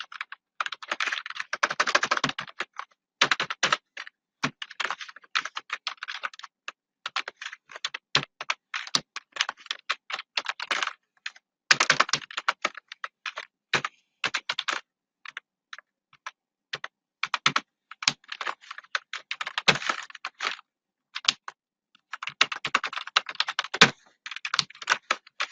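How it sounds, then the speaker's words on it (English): Typing on a computer keyboard while entering HTML, with quick bursts of close, crisp key clicks broken by short pauses, alone without any talk. "Now let us type something."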